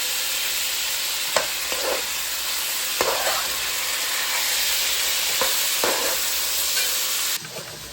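Food frying with sauce in a Dutch pot, a continuous loud sizzle broken by several scraping stirs of a spoon, then cutting off abruptly near the end.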